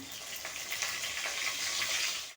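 A steady, bright sizzle of curry leaves dropped into hot oil with cumin and mustard seeds, crackling evenly for a couple of seconds, close and fairly quiet.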